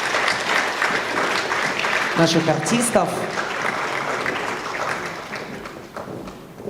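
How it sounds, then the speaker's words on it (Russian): Audience applause for a folk ensemble from Ust-Tsilma at a public discussion of a film, a steady wash of many hands clapping, loud and sustained with a voice speaking over it before it tapers off. "Давайте поддержим аплодисментами"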